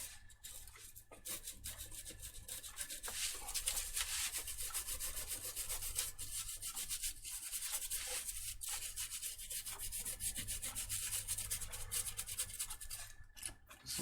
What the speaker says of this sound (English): This is just initial wetting of the board with the alcohol. Spreading the alcohol to let it work on the board.